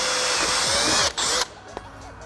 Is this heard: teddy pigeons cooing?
no